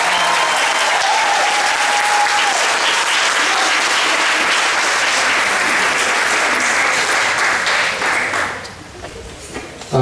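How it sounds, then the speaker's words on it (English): A large audience applauds graduates at a school moving-up ceremony, loud sustained clapping filling the hall for several seconds before tapering off near the end. "how about a round of applause for all of our graduates?"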